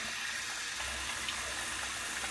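Hot water runs from a tap into a sink, a close, steady broadband rush continuing without pause and with no speech.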